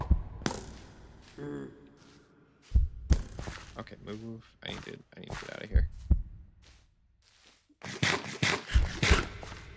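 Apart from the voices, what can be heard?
heartbeat sound effect from a video game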